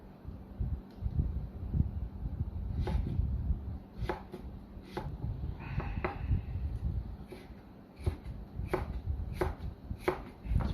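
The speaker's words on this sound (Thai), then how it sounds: "ซอยแครอทฝอยไว้นะครับ" A knife cuts carrot into fine thin strips on a board, sharp close chops coming in irregular bursts with short pauses, over a low background rumble.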